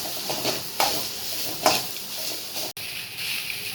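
A fried coconut mixture is stirred into cooked rice, giving a continuous soft, grainy scraping with two louder knocks of a spoon against the vessel, close up and with no voices.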